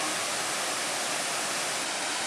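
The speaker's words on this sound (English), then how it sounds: "still making a very nice waterfall" Waterfall on a river in the Cumberland Gap and Grayson Highlands area, a steady, dense roar of falling water heard close and unbroken for the whole stretch, with no voices.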